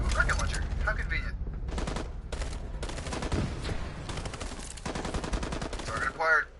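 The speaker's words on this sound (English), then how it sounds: "Ooh, rocket launcher. How convenient." A rocket launcher fires in a shooter video game amid dense, loud explosive bursts and booms, with a voice talking over parts of the action.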